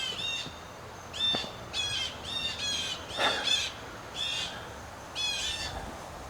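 Several birds squawk outdoors in harsh, repeated calls, about seven bursts spaced roughly half a second to a second apart, fairly close and loud over faint background noise, with no talk.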